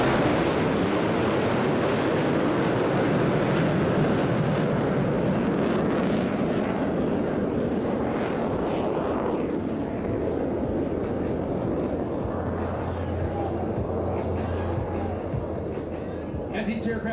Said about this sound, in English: As each aircraft accelerates to 500 miles per hour, they will perform a reversal turn back toward the shoreline.